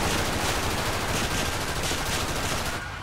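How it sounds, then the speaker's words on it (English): Rapid gunfire in a GTA 5 police shootout, a dense, continuous burst of close shots with no pauses, cutting off abruptly at the end. "Shots fired."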